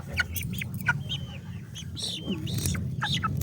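Chickens, chicks and a grey rooster cluck and give short calls that repeat through the clip over a low background rumble of thunder, fairly close.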